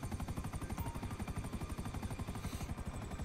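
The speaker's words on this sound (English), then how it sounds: "Why are there like lifeguard helicopters chasing us or whatever?" Helicopters in the video game GTA 5 chase the player during the Cayo Perico heist, a steady rapid rotor thump pulsing evenly and filling the whole stretch without talk, with a brief shift in tone near the end.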